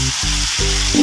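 Steamed potato pieces and drumstick (sajna) pods sizzle loudly in hot oil in a pan for a fish curry, a steady close frying hiss with two brief dips as pieces are added and stirred.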